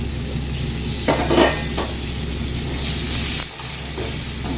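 Green peas frying with cumin powder in a pan, sizzling steadily while a utensil stirs and scrapes through them in a few bursts, close and fairly loud.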